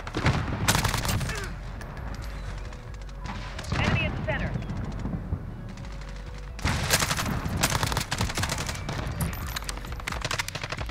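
G36C rifle fire in the Modern Warfare video game comes in rapid automatic bursts separated by quieter gaps, crisp and close, with faint voices murmuring underneath.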